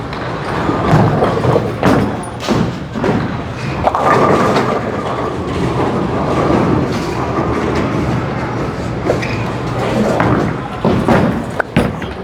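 A Hammer bowling ball rolls down a lane at a bowling alley, a steady low rumble punctuated by heavy thuds over about twelve seconds.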